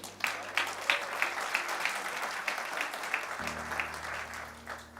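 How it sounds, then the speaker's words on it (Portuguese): Energetic applause from a church congregation during a family worship service, rhythmic rapid clapping at moderate distance with a low electronic hum entering partway through. "Então dê um aplauso bem forte ao Senhor."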